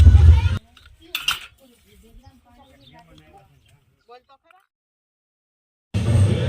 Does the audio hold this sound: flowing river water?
no